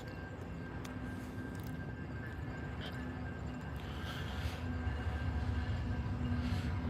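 A train rumbles past outdoors in a steady, broad roar that holds for several seconds and swells slightly toward the end, with faint clatter mixed in.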